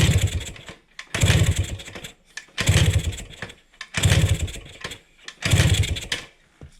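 A 1971 Kawasaki F7 motorcycle two-stroke engine being adjusted, heard as five loud rhythmic bursts of revving each lasting about a second with short gaps between, close and rough, with no talk.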